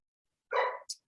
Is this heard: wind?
no